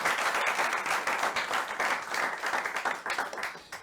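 Studio audience applause for a guest on a live TV show, a dense, moderately loud patter of many hands lasting a few seconds.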